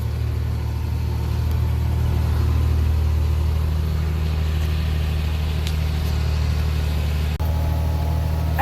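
Farm tractor engine running steadily in a corn field, a low constant idle-like rumble held close and even throughout with no talk.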